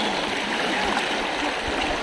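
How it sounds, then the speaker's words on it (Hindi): Rapids on the Murti river rushing and splashing over rocks, a steady, loud, close wash of turbulent water with no voices. "इसको छिपटिकाएं भी बोलते हैं, या रैपिड्स बोलते हैं इंग्लिश में इसको"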